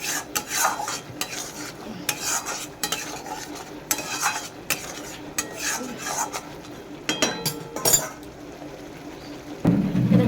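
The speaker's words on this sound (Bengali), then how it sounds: "আমি মশলাটাকে আবার কষাবো" Spice masala with turmeric stir-fried in a pan for a fish dish in mustard oil, with a spoon clinking and scraping in short bursts over a light sizzle, close by and without talk.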